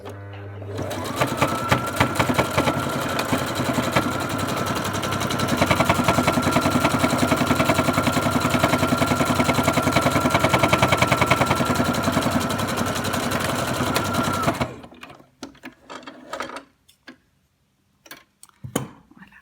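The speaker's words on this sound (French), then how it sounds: "on va venir faire une petite couture droite ici, au-dessus du petit côté et de l'autre côté pour faire joli" Sewing machine stitching a straight seam along the edge of a fabric mask pouch, a fast steady mechanical whir with rapid ticking that runs unbroken for about fifteen seconds, then stops, leaving faint handling clicks.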